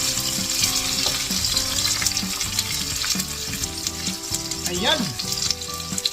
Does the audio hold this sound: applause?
no